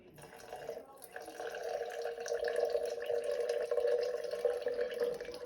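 Water poured steadily from a container into a jar of sourdough starter on a kitchen scale, a continuous close trickle lasting about five seconds with no talking.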